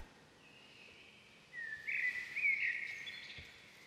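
Birds call at a quiet beach lodge in Tanzania, a thin sustained whistling tone rising after a soft start, then a brighter cluster of chirps against faint, calm background.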